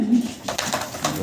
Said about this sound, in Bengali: চমৎকার একজোড়া রেসার কবুতর